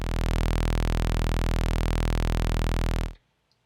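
A Behringer Cat synthesizer holds a sustained sawtooth wave, a dense buzzing tone with strong bass, steady and loud for about three seconds before cutting off abruptly into near silence.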